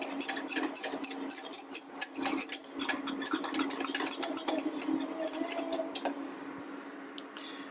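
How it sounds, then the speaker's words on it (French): A utensil stirs and scrapes ingredients for ham croissants in a bowl, producing soft repeated clinks and scraping at close range over a steady low background hum. "On mélange un peu."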